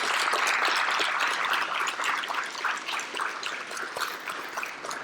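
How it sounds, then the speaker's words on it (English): An audience claps continuously at an awards and scholarships ceremony, a dense steady wash of applause that thins slightly toward the end. "please give yourselves and others a huge round of applause"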